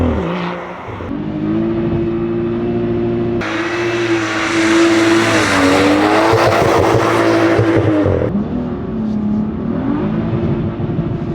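A BMW F87 M2 coupe, said to make about 360 horsepower in factory form, drives on the road with a loud, steady engine drone that rises into a harder-revving surge midway, then settles back, close and continuous throughout.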